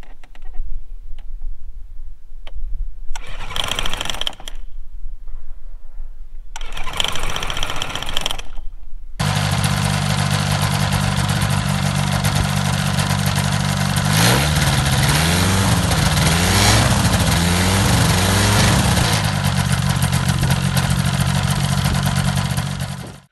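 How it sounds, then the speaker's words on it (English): A small aircraft engine, just reassembled after a carburetor cleaning, fires up for its initial run-up after two short cranking bursts, then settles into a loud, steady drone with brief rises and dips in power. "We also then did its initial engine run-ups."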